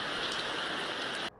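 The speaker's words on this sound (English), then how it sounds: "That is rain, dude" Steady hissing rain pours down loudly, then cuts off abruptly near the end.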